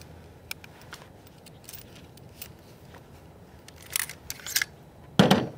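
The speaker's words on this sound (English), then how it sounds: "take out your upper, your bolt carrier out of your upper." An AR-15 rifle chambered in .22 is taken apart, its upper and bolt carrier removed, with faint handling noise and then a few sharp, close metallic clicks and clacks near the end, no voices.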